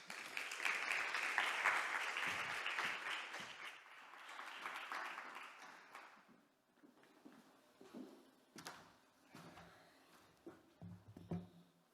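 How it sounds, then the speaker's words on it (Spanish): An audience at an education talk breaks into sustained applause for several seconds, then it thins into scattered claps and faint room noise with a few soft thumps. "recibámosle con un fuerte aplauso para arrancar bien el día y la mañana"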